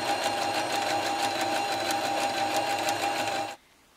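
A Brother XL2600 sewing machine runs stitch 15, a loud, close, steady mechanical whir with a rapid regular needle rhythm that stops abruptly near the end, leaving near silence.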